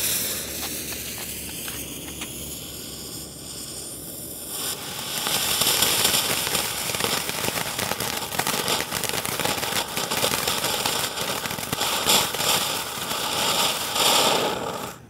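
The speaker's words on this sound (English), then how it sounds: "we're gonna try a couple of these things out. Just some small ones" Small consumer fireworks set off outdoors on the 5th of July, a fizzing hiss that erupts after a few seconds into a dense stream of crackling pops, fairly close and continuous.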